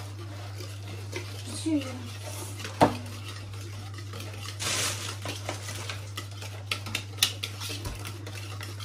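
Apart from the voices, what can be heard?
stirring eggs into yogurt cake batter in a bowl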